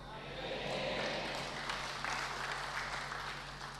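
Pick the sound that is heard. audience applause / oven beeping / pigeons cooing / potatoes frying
audience applause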